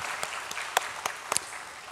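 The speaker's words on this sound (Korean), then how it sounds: "우리 하나님께 영광의 박수 올려드립니다" A church congregation at a Sunday worship service claps after a hymn, producing a handful of faint, scattered claps that never build into full applause.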